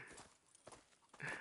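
Horse hooves clip-clopping in a few spaced, soft thuds, quiet and fairly close, with no voices over them.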